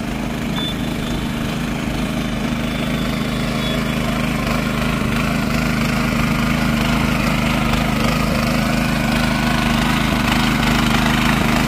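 A tractor engine runs steadily nearby while working a farm field in Konkan, a continuous low rumbling drone with no voices.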